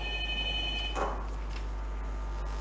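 Telephone ringing for an incoming viewer call on a Qur'an-reading contest TV broadcast, a bright electronic ring burst near the middle, brief and moderately loud over a faint background hum.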